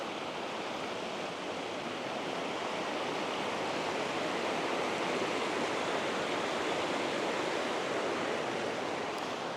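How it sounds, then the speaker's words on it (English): A mountain creek at a campground in Buena Vista, Colorado, rushing and gurgling in a steady, dense wash of water noise, close and unbroken, with no voices. "This creek is beautiful."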